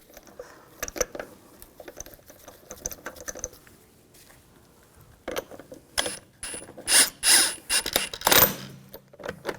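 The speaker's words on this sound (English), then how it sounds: "Now install the wheel. Get that lined up. And get the lug bolt started" Lug bolts being started on a front wheel of a 2000-2006 BMW X5 3.0L L6: quiet mechanical ticking at first, then louder bursts of ratchet clicking in the second half, with no talking.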